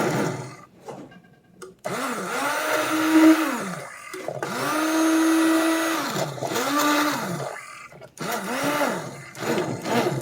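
An immersion blender whirs in repeated bursts, its motor pitch rising and falling as it churns through thick tomato sauce, loud and close.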